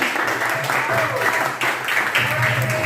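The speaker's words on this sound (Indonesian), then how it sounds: "berikan aplaus atau tepuk tangan" Students in a classroom give a round of applause, a short burst of clapping with a bit of voice mixed in, close and fairly loud throughout.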